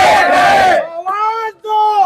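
A crowd at a protest rally demanding the arrest of politician Basangouda Patil Yatnal roars loudly and densely, then gives way to a strong, sustained chanting shout that rises twice in close succession.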